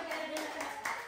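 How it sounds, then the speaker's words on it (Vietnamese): A family claps hands together during a birthday livestream, four or five quick, evenly spaced claps close by with a faint background hum. "Vỗ tay."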